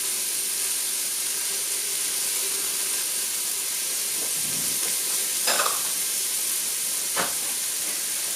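Ginger frying in a pan for a chicken gizzard curry makes a steady, even sizzle and hiss throughout, with a few brief clinks and scrapes of stirring near the end and no talking.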